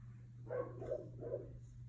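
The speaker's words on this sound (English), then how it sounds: "There goes my dogs barking at the neighbors who have the audacity to be in their own backyard." A few muffled barks from dogs some distance away, barking at neighbors in their backyard, three bursts spaced evenly over a steady low electrical hum.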